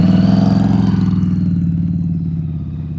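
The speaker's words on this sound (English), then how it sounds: "You heard his throttle go down? He picked it right back up. Listen to your engine." Motorcycle engine at slow riding speed during a practice session: a loud, close throbbing engine note with a steady pulse that gradually fades and eases off as throttle drops, no voices.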